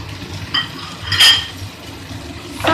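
Salt, green chillies and coriander are stirred by hand into poha with a spoon in a pan, giving soft scraping and a few light clinks, one brighter clatter near the middle, all close and fairly quiet, with no talking.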